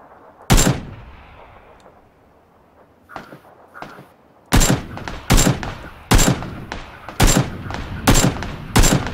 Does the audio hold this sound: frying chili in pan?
no